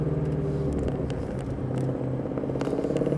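Ford Shelby GT500 Mustang engine on a race track, a steady loud rumble with a harmonic drone that climbs slightly as the throttle rolls back on after braking for a chicane, heard close with no talk.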